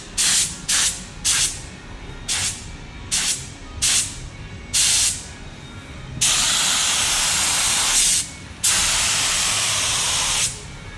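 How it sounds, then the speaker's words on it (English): A paint spray gun lays primer onto a spare pickup truck hood, firing several short hissing bursts in a quick rhythm, then two long loud continuous sprays, close by with no talk. "That's a nice spray."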